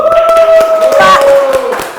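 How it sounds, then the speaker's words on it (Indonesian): Small studio group clapping to welcome a podcast guest, a quick burst of claps mixed with cheerful voices and a sustained tonal sound. "Tepuk tangan untuk Erik Hemot"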